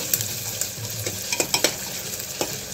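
Onions fry in a pan until golden brown, a bright hiss under a series of quick spatula scrapes and taps on the pan, close and clear, with no speech.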